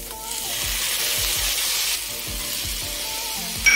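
Vegetables frying in a pan for red sauce pasta give a loud, steady hiss and sizzle, with low rhythmic thumps of stirring underneath and a brief change in the hiss partway through, close by with no speech.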